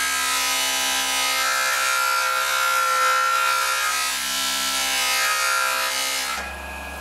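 A JoolTool rotary polisher runs against a metal ring, a continuous high buzzing whine with a rubbing edge held steady for several seconds before it cuts off abruptly near the end.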